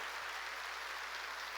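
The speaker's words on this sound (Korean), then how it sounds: "빨리 박수 치라고요" Church congregation applauds during a sermon, a brief, soft, steady patter of many hands clapping, heard from some distance.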